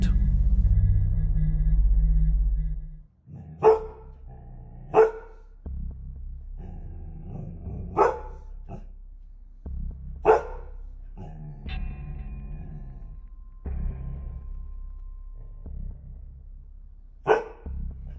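A pet dog in a home barks in several sharp, separate bursts spaced a few seconds apart, heard close over a low background rumble with no talk.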